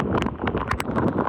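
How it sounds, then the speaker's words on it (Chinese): Storm gusts sweeping a street in Beigang, Yunlin, in the early hours: loud, continuous buffeting roar with rustling, flapping and rattling bursts close to the microphone. "云林北港街头出现狂风暴雨"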